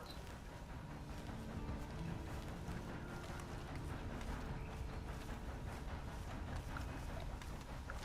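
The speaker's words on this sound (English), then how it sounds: "Then you better get on this horse." Horse hooves clip-clop steadily in the Red Dead Online video game, a continuous rhythmic trot over low rumbling background noise, moderately faint with no talking.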